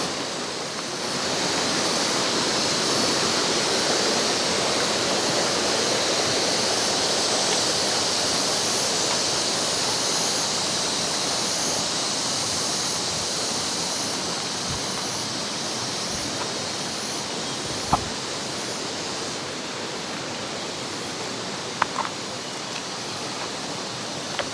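Strong floodwater rushing along a creek, a dense, steady roar of churning water close by that holds unbroken for the whole stretch, with a few faint knocks near the end.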